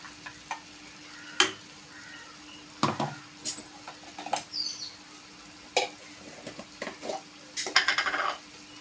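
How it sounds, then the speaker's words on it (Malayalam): A spoon stirs avial, a Kerala mixed-vegetable dish, in a pot after curd has been added, making irregular scrapes and clinks against the metal with quiet gaps between them. No one speaks. "അവിയലിൻ്റെ കഷ്ണമെല്ലാം വെന്തിട്ടുണ്ട് നല്ലോണം. നമുക്കിതിലേക്ക് ഇച്ചിരി തൈര് ഒഴിച്ചു കൊടുക്കാം."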